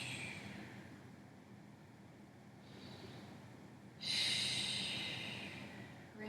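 Slow, deep breaths during a gentle yoga session: a long soft exhale, a brief inhale, then a stronger audible breath through the nose, close and quiet with no talking.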